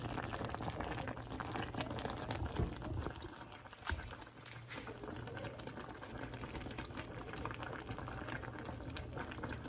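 Apples simmering in a pot as they break down and separate from their skins, a steady close bubbling and gentle popping that continues evenly throughout.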